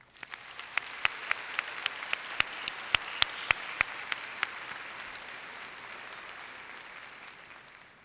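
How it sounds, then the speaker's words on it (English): A high school graduation audience applauds its teachers with a broad wash of clapping and a few sharp, distinct claps standing out near the start, fading over several seconds. "Let's give our teachers a round of applause."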